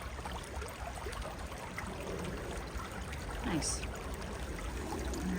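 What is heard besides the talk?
creek water flowing around rocks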